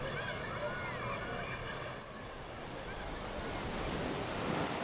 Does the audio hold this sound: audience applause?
no